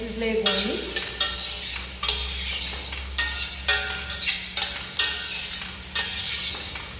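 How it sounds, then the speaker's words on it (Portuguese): Vegetables sweating in a pan for risotto, with a soft steady sizzle under repeated scraping strokes of a utensil stirring about once a second, close and moderately loud. "Eu vou deixar dar uma suada aqui nesses legumes"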